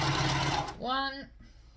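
A sewing machine runs briefly, chain stitching a seam on Christmas shorts in a quick, close whirring burst, then stops, followed by a short tonal sound that may be a voice.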